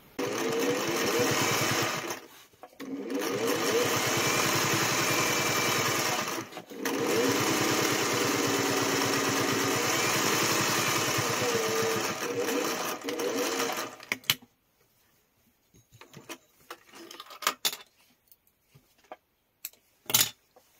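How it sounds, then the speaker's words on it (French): A sewing machine stitches fabric for a small pouch in a home craft session, running in long loud close bursts with brief pauses, then stopping and leaving only faint handling clicks near the end. "Allez, je vais me mettre à la couture."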